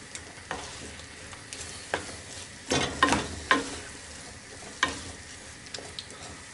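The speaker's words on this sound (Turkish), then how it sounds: "Yumurtayı pişireceğim." Egg frying in a pan with sucuk makes a soft, steady sizzle broken by several sharp spatula scrapes and taps against the pan.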